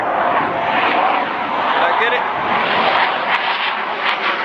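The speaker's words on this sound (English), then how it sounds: "Check this jet out in the background." A jet aircraft passes overhead near Virginia Beach on a hot day, a loud, steady roar that fills the whole stretch while someone speaks briefly over it.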